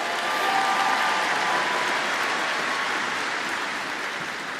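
Graduates are applauded by a large audience at Alabama A&M University's fall 2025 commencement, a broad, steady roar of clapping that fills the hall and tapers slightly near the end, with no speech.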